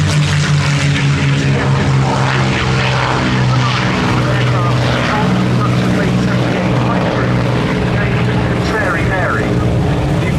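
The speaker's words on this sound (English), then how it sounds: "we change our scene to one of the Mustangs just tucking the gear up." A P-51 Mustang fighter climbs out after take-off with its gear retracting at an air show, the piston engine and propeller droning loudly and steadily throughout while a commentator speaks over a public address system.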